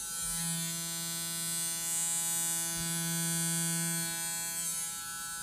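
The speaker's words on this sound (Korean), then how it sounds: "면도기 면도기" An electric shaver running on two AAA batteries gives a steady, close buzzing drone with a faint rattle, continuous and alone throughout.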